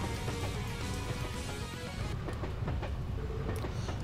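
Train rolling along rails in the Trails to Azure video game, a steady broadband rumble with faint rhythmic clatter running continuously and fairly quiet throughout.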